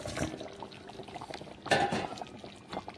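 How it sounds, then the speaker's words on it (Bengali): Fried fish heads go into a bubbling fish curry, with a wet splash and a soft clatter of pot and utensil over the steady simmer, close up in a home kitchen. "তো চলো এবারে ভেজে রাখা মাথাগুলো দিয়ে দিই।"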